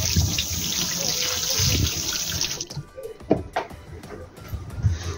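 Tap water gushes steadily into a kitchen sink while an onion is being washed. The flow cuts off partway through, leaving drips, handling clatter and faint background noise.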